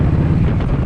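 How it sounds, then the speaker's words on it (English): Strong wind buffeting the microphone in Yosemite, a loud low rumbling roar that fills the whole short moment. "This wind is insane."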